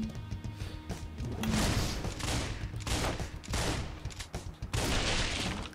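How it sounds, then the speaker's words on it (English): Rapid bursts of gunfire while swinging from poles in the video game Wet, dense and loud, with crashing impacts in repeated volleys and no pauses. "the shooting while swinging from poles thing is pretty good"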